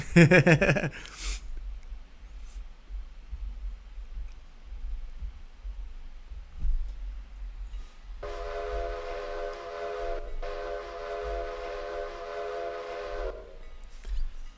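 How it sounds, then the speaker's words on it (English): A passenger train in the Railroader simulation game sounds its horn in two loud, sustained blasts near the end, over a low rumble of rolling running, with a brief burst of noise at the start. "I got a passenger train coming here through Whittier"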